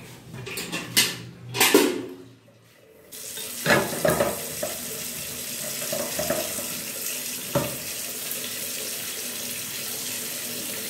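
Items are rinsed under a running household tap, water splashing in bursts with dishes and cutlery clinking, followed by a steadier flow of water.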